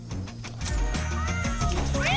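A cat in the video game Blue lets out a short, whiny meow alongside game music and clattering effects.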